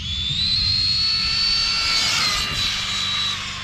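A high-pitched electric motor whine rises and holds as an Arrma Kraton 1/8 scale 8S RC monster truck with a 1250kv motor speeds past close by, loud and steady, then eases off.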